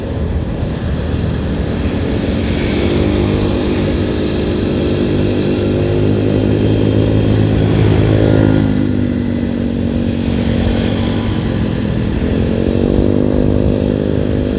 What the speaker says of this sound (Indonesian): ini adalah situasi dan kondisi Pantura saat ini ya, didominasi oleh kendaraan roda 2 tentunya